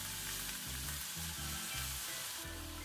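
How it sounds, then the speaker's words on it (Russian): Carrots and sweet peppers fry together in a pan with a steady, close sizzle and occasional stirring bumps, no voices. "Обжариваем все вместе до полумягкости."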